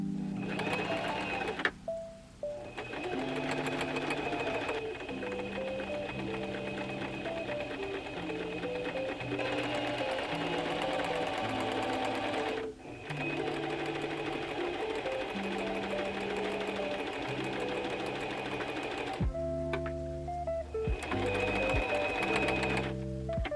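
A sewing machine runs steadily for long stretches while stitching a straight seam through fabric, its motor whirring with rapid needle pulses and brief stops between runs, heard up close with no talking.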